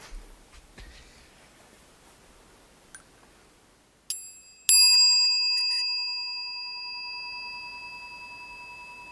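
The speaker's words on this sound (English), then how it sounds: "I was going to ring a bell" A bell is struck once to open a podcast, giving a bright, clear metallic ring that sustains and slowly fades over several seconds, preceded by a few soft handling sounds.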